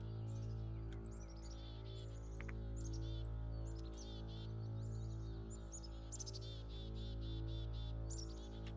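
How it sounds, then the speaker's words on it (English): Birds chirp and tweet repeatedly in the Assassin's Creed video game. Their calls are quick and bright, at a moderate distance, over a constant low droning hum. "The birds."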